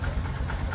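A Hero Passion X Pro motorcycle engine fitted with a new timing chain idles close by, a steady low rumble with even mechanical ticking and no voices over it.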